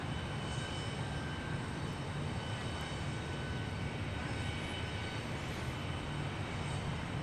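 A Southwest Airlines jet in special Nevada livery passes at Dallas Love Field, its engines a continuous broadband roar. The noise is fairly distant and holds steady throughout, with no voices.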